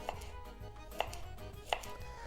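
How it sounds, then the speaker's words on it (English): A knife chops garlic thinly on a cutting board for aglio e olio, three crisp separate strikes about three-quarters of a second apart, close and fairly quiet with no talking. "So we're gonna go ahead and just keep chopping this up."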